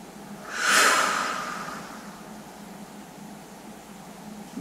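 A deep, slow exhale during a home apnea breathing exercise: one broad breathy rush that swells quickly, then fades gradually over a couple of seconds into quiet room noise.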